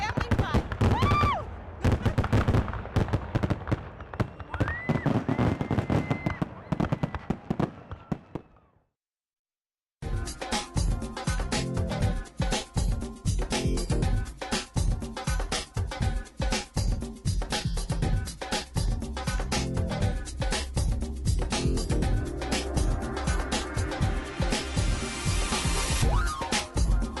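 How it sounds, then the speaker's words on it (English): Fireworks at a winter Fire and Ice Festival in Rochester: dense, continuous loud bangs and crackles in two bursts separated by a brief silence, with voices mixed in. "Who thinks of watching fireworks in the middle of winter?"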